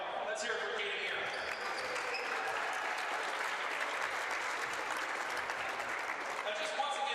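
Crowd applause in a gym at a high school basketball game, a broad steady roar of clapping from many spectators held at an even level throughout, with faint voices and scattered shouts mixed in.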